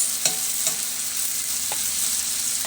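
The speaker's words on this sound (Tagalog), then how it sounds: "ito po nagisa po ako ng sibuyas kamatis" Onion and tomato sautéing in a pan give a steady close frying hiss, broken by a few light knocks of a utensil against the pan.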